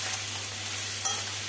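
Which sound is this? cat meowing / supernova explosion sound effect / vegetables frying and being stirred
vegetables frying and being stirred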